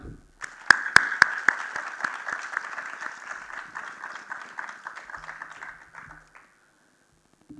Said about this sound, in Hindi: श्री के मोहम्मद जी का स्वागत करते हुए जोरदार तालियां।